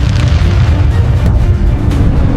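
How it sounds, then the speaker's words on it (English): A loud projectile detonation near an F-35 at a night island base, heard as a deep, sustained booming roar that fills the whole stretch with heavy low rumble. "A projectile detonates nearby, its shockwave violently shaking the first aircraft."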